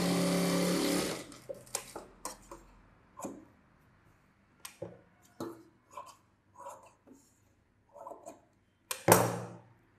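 A sewing machine stitching along a boat-neck saree blouse edge gives a short, fairly loud run at the start and another at the end, with faint scattered clicks and handling noises between them.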